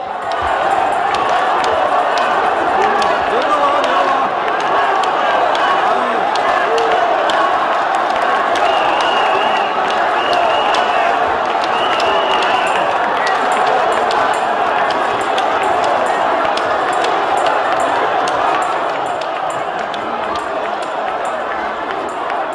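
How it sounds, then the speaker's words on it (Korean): A large indoor audience at a party leadership candidate event gives steady, loud, continuous applause and cheering, a dense sustained roar of many hands lasting throughout. "한교안 당대표 후보님께 다시 한번 큰 박수 보내주시기 바랍니다"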